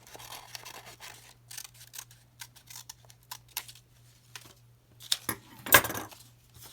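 Scissors snip through paper while cutting out the beard piece of a Greek theatre mask, a series of short, quiet, irregular cuts with pauses and a sharper click near the end.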